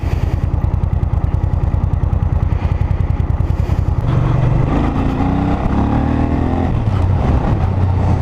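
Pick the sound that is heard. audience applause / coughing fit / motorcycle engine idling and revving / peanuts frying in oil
motorcycle engine idling and revving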